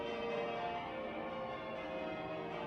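Church bells ring on steadily throughout, a dense layered peal of overlapping tones at a jubilee celebration, moderately loud and continuous with no clear gaps.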